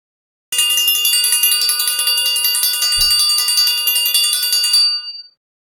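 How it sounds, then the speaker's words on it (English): A bright metallic bell rung continuously for about four and a half seconds with a rapid, even jangling tremolo, loud and close, then cut off abruptly. "I'm ringing the bell."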